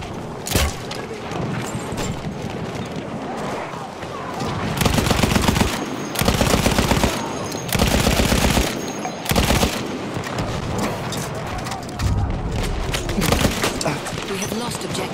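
Gunfire and grenade blasts in a Battlefield 1 battle, with bursts of automatic fire and heavy booming explosions recurring over several seconds amid constant combat noise, with a voice talking over it.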